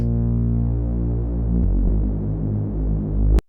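A thick, detuned synth bass drone with a wobbling, beating texture, sustained and loud, shifting tone midway before cutting off abruptly.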